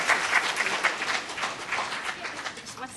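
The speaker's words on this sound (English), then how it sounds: "Let's give Professor Wang another round of applause." Audience applause for Professor Wang at a conference, a steady patter of clapping at moderate volume through the whole stretch, with a faint murmur of talk and birdlike chirps mixed in.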